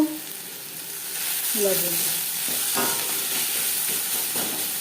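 Onion masala stir-fried with salt and turmeric, giving a steady close hiss of frying under occasional soft stirring scrapes, continuous and fairly loud throughout.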